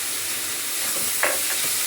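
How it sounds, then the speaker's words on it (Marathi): Onion sautés with a spoonful of salt in a hot pan, a loud dense sizzle running throughout with a brief stir or scrape near the end. "आता इथे 1 चमचाभर मीठ घालते, म्हणजे कांदा पण चांगला परतन."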